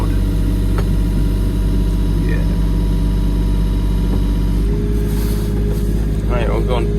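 Loud, steady engine drone from a tracked machine straining to raise itself out of boggy mud, running low and constant throughout, with a brief burst of someone talking near the end.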